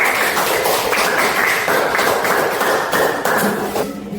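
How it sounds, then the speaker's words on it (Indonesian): A classroom group of schoolchildren clapping, a dense burst of rapid handclaps in uneven rhythm, close and loud for a few seconds before tapering off. "Aplaus untuk kelompok"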